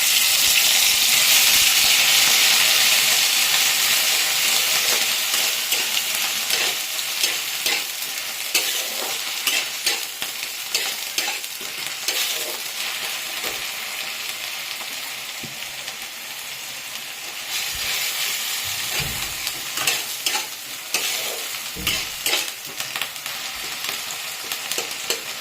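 Onions frying in oil with bay leaf and panch phoron for a cauliflower fish curry, a loud continuous sizzle with repeated spatula scrapes and stirring knocks, close up and without speech.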